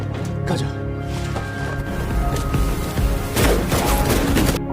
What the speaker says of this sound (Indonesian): tembak-tembakan pun terjadi